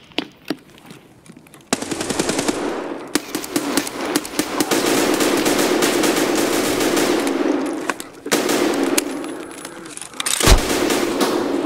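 Automatic gunfire in Escape From Tarkov, loud sustained bursts of rapid shots filling most of the stretch, with brief gaps and a heavy low thump near the end.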